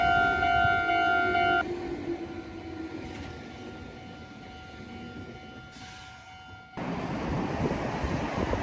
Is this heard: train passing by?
yes